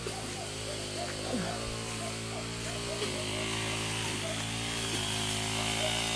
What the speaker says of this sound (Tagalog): Nagka-grass cutter yung asawa ko.